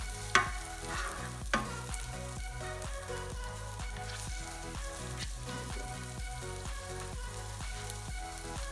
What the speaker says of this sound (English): So I'm just gonna saute it until the onion is soft.